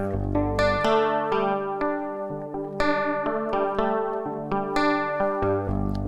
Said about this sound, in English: Some more chorus guitar.